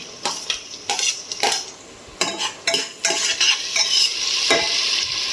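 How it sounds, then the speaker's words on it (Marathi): Onion and tomato for pav bhaji sizzle loudly while a metal spoon scrapes and clanks against the pan in quick irregular strokes, with bursts of brighter frying hiss between them; no talking. "त्याचा कांदा होऊ दे, टोमॅटो टाकते त्याच्यामध्ये."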